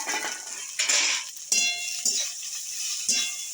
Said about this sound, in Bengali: পেঁয়াজ কুচি, কাঁচা লঙ্কা কুচি, গাজর, টমেটো, বাঁধাকপি সব একসঙ্গে দিয়ে আমি একটু নেড়ে চেড়ে নেব